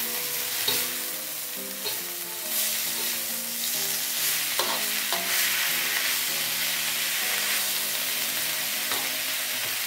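Salted fish and bitter melon stir-fry in a hot pan: a steady, loud sizzle runs throughout, with occasional sharper clacks of stirring.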